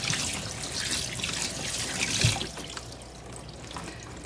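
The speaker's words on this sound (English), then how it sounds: "let me wash my hands really quick" A kitchen sink tap runs in a steady soft splashing stream while hands are washed beneath it, with one brief knock partway through.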